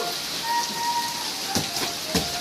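Heavy rain falling steadily by the Lesten River in the Gayo highlands, a dense close hiss with scattered louder drop impacts, no voices.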